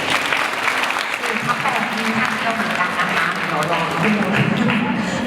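Loud, sustained applause from a hall full of Thai grade 10 students for their homeroom teachers during a school ethics training session, with thick continuous clapping close by and crowd voices murmuring underneath.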